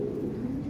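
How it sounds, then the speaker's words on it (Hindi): Teddy breed pigeons cooing softly, a brief low murmuring coo heard close and faint. "अब भैया देखें ये कबूतर एक टॉप क्लास क्वालिटी कबूतर है"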